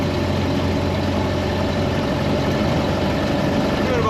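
A 1928 Ford Model A pickup runs on the road at about 30 mph, its engine giving a steady, loud, low drone with road rumble and no change in pitch.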